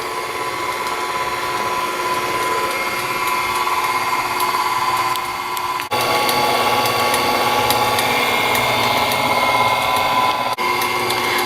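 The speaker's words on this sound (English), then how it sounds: "So we're going to go ahead and beat that for a couple of minutes until it's all mixed together" An electric mixer whirs continuously as it beats three eggs with oil into chocoflan batter, a loud, steady motor whine that briefly dips twice.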